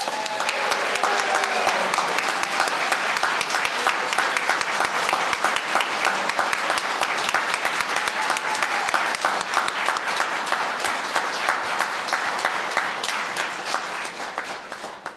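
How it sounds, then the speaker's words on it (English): A church congregation applauds during a Sunday service to welcome new members, a steady, dense round of clapping that holds evenly for about fifteen seconds and tapers off at the end, with no voices over it. "Let us welcome our new members with a round of applause."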